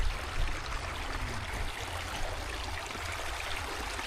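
Stream water flowing along Hemlock Falls Trail, running high after rain, makes a steady broadband rush with a low rumble. It holds evenly throughout and nobody talks over it.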